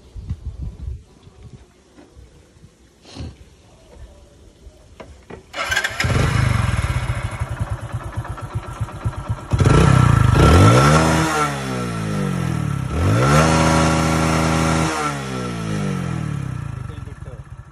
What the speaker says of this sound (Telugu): సో ఒకసారి స్టార్ట్ చేయండి వెహికల్.